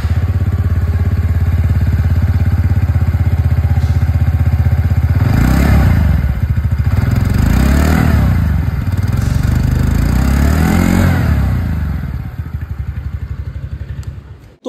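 A 2024 TVS Ntorq 125 Race XP scooter with a three-valve engine idles close by, then revs three times in quick swells before dropping back and cutting off.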